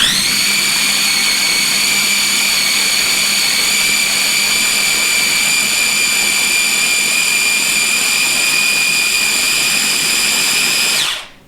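A large countertop blender runs steadily at high speed pureeing fresh apricots, a loud sustained motor whine with strong tonal overtones that holds evenly for about eleven seconds before cutting off abruptly.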